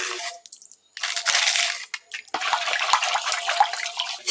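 Water sloshes and splashes in bursts as clothes are stirred around in a basin of warm water with baking soda, with short quiet pauses between swirls.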